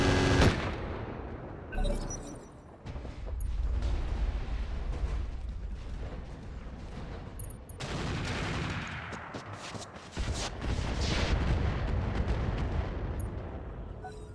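Mech weapons fire in Battletech: sustained heavy barrages of rapid cannon and autocannon shots with booming impacts, loud and continuous, pausing briefly before surging again.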